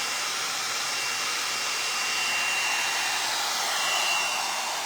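Heated hair styling tool running on short hair, a steady airy whir held at even loudness without pause, close by, with no talking.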